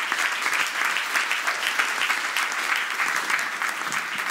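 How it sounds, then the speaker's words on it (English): An audience at an Oxford-style debate on humanitarian intervention at the Brussels Forum 2018 bursts into a sustained, even round of applause that holds steady throughout, with no speech over it. "if we could launch things now with a round of applause"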